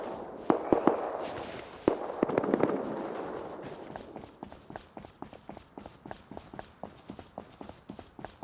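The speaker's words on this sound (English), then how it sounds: "Someone's firing away." Distant gunfire crackles in the survival game Rust, a run of sharp, uneven pops and bursts that start louder and thin into scattered faint reports over the rest of the stretch.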